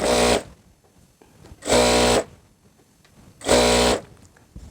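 A sewing machine stitches a bartack near the hem of palazzo trousers in three short, loud bursts of rapid running, each about half a second, with quiet pauses between them.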